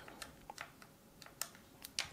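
Keys clicking on a Tecware Phantom L low-profile RGB mechanical tenkeyless keyboard, about eight separate crisp taps at uneven intervals, close and fairly soft with no voice.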